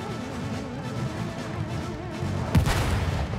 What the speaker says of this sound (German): Ich bin in der Luft explodiert